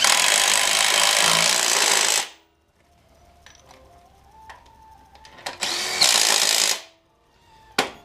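An air impact gun rattles off clutch bolts during a Miata twin-disc clutch install: two loud, sustained bursts of a couple of seconds each, then a brief final zip, separated by quiet workshop tinkering.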